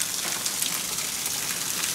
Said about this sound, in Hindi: काफी ज्यादा खतरनाक बारिश है।